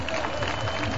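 Crowd at a Costa Rican bull-riding event applauding a rider, a dense wash of clapping and crowd noise throughout with voices mixed in.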